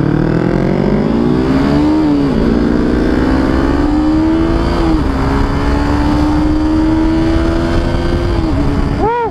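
KTM RC 250 motorcycle on a test ride, its engine revving and rising in pitch through several gear changes, loud and continuous with wind noise, ending in a sharp rev blip.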